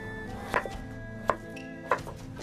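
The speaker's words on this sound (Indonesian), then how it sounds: "Lalu kita potong-potong." A knife cuts chayote squash on a cutting board, giving three crisp, evenly spaced chops close by over a faint background hum.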